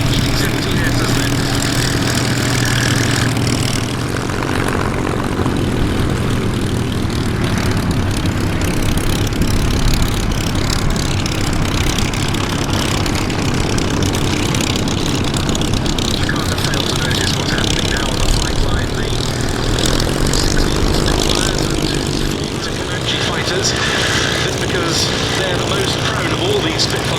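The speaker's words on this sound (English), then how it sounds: "Two Beech D-17Ss then." Beech D-17S Staggerwing biplanes at the Duxford Battle of Britain airshow, a steady, loud radial-engine drone with a rough, throaty hum that persists throughout, with crowd and commentary noise mixed in.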